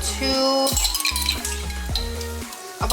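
Ground beef and pasta shell noodles browning in a pan, a soft sizzle under clinks and scrapes of a utensil against the pot, with a faint hum and no talk.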